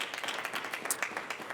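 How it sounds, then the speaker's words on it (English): Audience applause for Philip Seawalt at an Opportunity Coalition education event, a short burst of dense, fairly quiet clapping from a crowd with no voices over it. "so let's give him a round of applause too"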